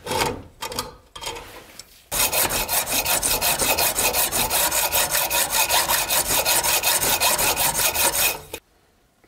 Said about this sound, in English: That saw is going to take forever